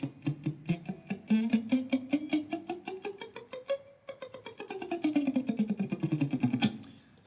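Electric guitar with effects and distortion plays a hammer-on and pull-off exercise with the fretting hand resting on the strings without pressing them, giving a steady stream of muted, rapid plucked notes that rise in pitch, pause briefly, then descend.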